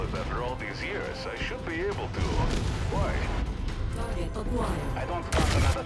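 Mech weapons in the video game Mechwarrior 5 fire in booming, crashing bursts under steady overlapping talk, with a louder blast near the end.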